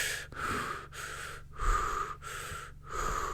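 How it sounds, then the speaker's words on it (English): Quick mouth breathing is heard close up, with about five breaths in and out in a steady, hissy rhythm. Each breath is separated by a brief pause, and no one talks. "that's all mouth breathing, but it should be nasal breathing"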